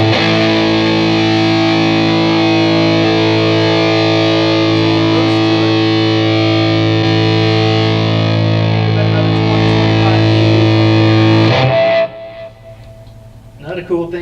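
Heavily overdriven electric guitar roars through a Hughes Kettner Grand Meister 36 tube amp with the boost engaged, a loud sustained distorted chord ringing for about twelve seconds before cutting off abruptly into near quiet with a faint pick noise.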